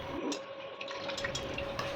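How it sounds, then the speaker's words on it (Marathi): Clean water runs over a new stone mortar and pestle, producing a close, steady trickle with small drips and splashes spread across the moment. "आता आपण स्वच्छ पाण्याने हा खलबत्ता चांगला स्वच्छ करून घेऊया"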